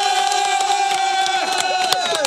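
A crowd at a French rap show cheers and shouts loudly and continuously for the rapper, with voices blending into a sustained roar and scattered claps.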